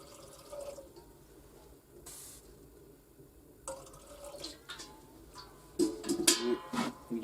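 Water is poured from one vessel into a kettle for tea on a winter snowmobile fishing trip, a soft trickle that grows into louder splashing and gurgling near the end.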